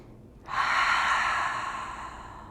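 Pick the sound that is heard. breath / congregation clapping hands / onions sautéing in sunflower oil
breath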